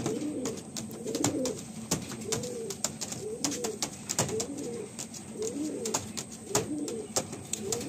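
A young pair of Madrasi pigeons and their loftmates coo in a loft, rhythmic rolling calls repeating every second or so, close and clear over a soft hiss.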